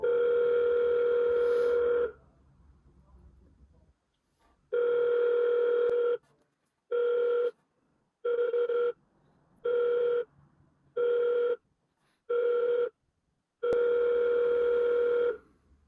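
An outgoing phone call rings out on the line with a steady electronic tone, first one long burst, then a run of short evenly spaced beeps, and finally another long burst, clear and close with silent gaps between.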